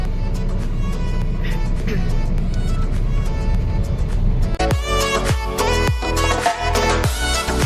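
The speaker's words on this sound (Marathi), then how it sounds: "ट्रॅफिक पळय कितले सारके मॉलाशीं." Road traffic opposite a mall in Porvorim, Goa, near flyover construction, rumbles steadily nearby, then sharper passing-vehicle noises and clattering take over in the second half, all without talk.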